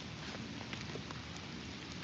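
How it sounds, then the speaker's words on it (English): Steady rain falls on an outdoor fishing spot on a rainy day, a dense, even hiss of drops close by with no talk or other sounds. "A good farmer's rain."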